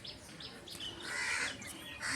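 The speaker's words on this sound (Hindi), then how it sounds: "ये चिड़ियों की चहचहाहट" Birds chirp in the trees near a temple at Janakpur Dham in Nepal. Several bright, short calls sit over a soft outdoor background, moderately close, with no voices.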